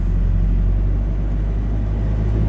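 Heard from inside the cab, a Ford Ranger pickup carrying more than three tons drives along with a loud, steady low engine and road rumble throughout, and no talking.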